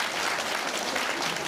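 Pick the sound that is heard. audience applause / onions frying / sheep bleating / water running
audience applause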